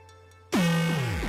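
A loud synthesized drum hit run through an effect module bursts in after a quiet lead-in, its pitch sweeping downward in a long tonal glide with shimmering effected overtones.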